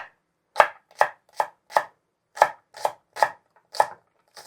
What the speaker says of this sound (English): first I'm going to chop up the white and the light green parts for the initial fry